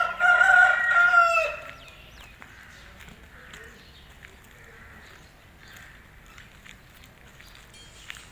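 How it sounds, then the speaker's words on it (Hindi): A rooster crows once loudly and close at about seven in the morning on a commercial street in a Karachi housing society, then faint street ambience follows. "सुबह के 7 बज रहे हैं और मुर्गा भी जो है वो अपने अज़ान दे रहा है, सबको जगा रहा है।"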